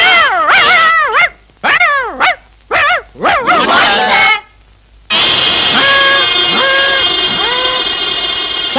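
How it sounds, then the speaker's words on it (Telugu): Dogs bark and yelp in several quick bursts, close and loud, then a sustained steady tone with a dog's whimpering cries over it. "కుక్కలు అరుస్తున్నారండి."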